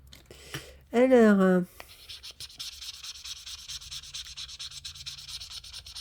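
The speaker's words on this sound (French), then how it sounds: "On va gommer. On va gratter." Scraping and rubbing with a small scraper tool on a page, a steady close scratchy texture running for several seconds after a short burst of voiced sound near the start.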